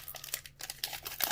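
Crinkly foil wrapper of a Pokémon Burning Shadows booster pack being torn open, a quick close burst of crackling and ripping with no voices.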